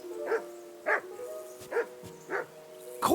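In Kingdom Come Deliverance 2, a dog gives five spaced barks at an even, insistent pace, moderately loud over a low ambient drone, with a louder bark at the very end.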